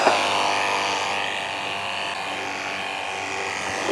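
A GardenJoy 21-volt cordless pressure washer rinses a surface with its nozzle wand, giving a steady, close electric motor buzz with hissing spray that holds at even loudness throughout, with no talk.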